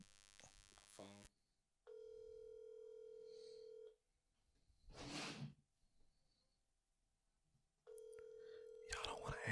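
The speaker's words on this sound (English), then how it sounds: "Phone." A phone call being placed, with a few quick keypad tones, then two long, steady electronic ringing tones separated by silence and a brief burst of voices talking nearby.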